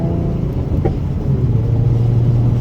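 A tuned car with an AMR tune idles and revs, its exhaust giving a low steady burble from close by, with one faint pop, no talk.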